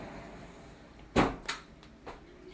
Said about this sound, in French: avec une porte coulissante, toujours pour gagner de la place, pour éviter d'avoir une ouverture sur la pièce